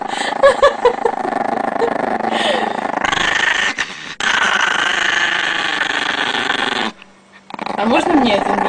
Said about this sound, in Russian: Ты только на папу рычишь?